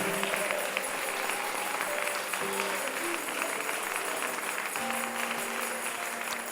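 A church congregation applauds steadily, a dense, fairly distant wash of clapping that holds evenly throughout without pause.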